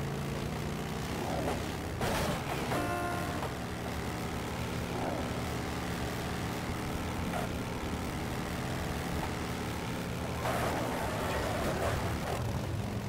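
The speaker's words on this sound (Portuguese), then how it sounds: "Nossa, que puxada deu a moto" A motorcycle in the racing game Midnight Club 3: Dub Edition on PSP pulls hard under acceleration, a steady droning engine roar that stays fairly faint and continuous, with no talk over it.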